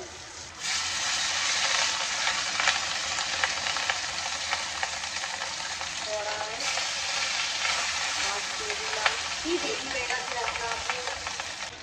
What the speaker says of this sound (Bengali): উচ্ছে ভাজা